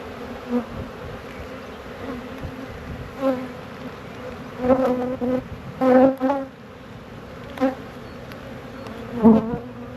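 Honeybees swarm over a hive frame being lifted out, a dense steady buzz running throughout with louder surges as bees pass close, no talk.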